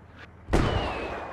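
Gunfire in the military shooter game Squad during a tank fight near a defilade: a faint short pop, then a loud sharp blast around the midpoint whose echo rings and fades slowly, with no voices.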